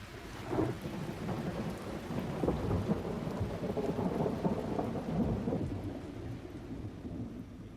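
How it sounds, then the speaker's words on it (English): Steady rain pours at night with distant thunder rumbling underneath, a continuous moderate wash of drops with no voices. "The rain fell all night."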